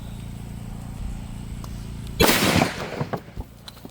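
A shotgun loaded with a steel shot round fires outdoors: one loud, sharp blast after quiet background hum, then a ringing tail with a few crackling echoes fading away.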